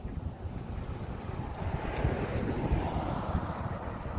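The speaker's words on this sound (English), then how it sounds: "So I'm actually getting a strong wind now" Strong gusts buffet the microphone with a continuous low roar that swells slightly midway, with no other clear sounds.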